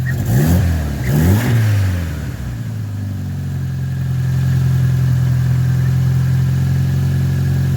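A Mitsubishi Evo X with its 4B11T engine, just after a valve cover install, gets two quick, loud revs that rise and fall, then settles into a steady, close-up idle.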